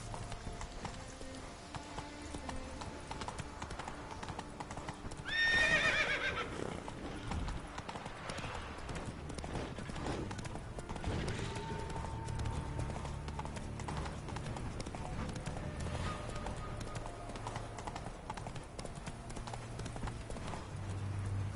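Roach, a horse in a video game, gallops with steady clip-clop hoofbeats throughout, a brief whinny rising near the start over constant background game ambience.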